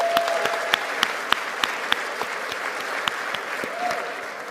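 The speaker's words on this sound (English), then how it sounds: "give yourself a round of applause for being here tonight" A room full of people at an awards ceremony claps steadily, with sharp individual claps standing out from the dense applause. It goes on the whole time without voices.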